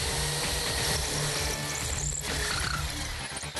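A drill with a masonry bit grinds noisily into brick, a rough continuous buzz close up with a brief dip partway through.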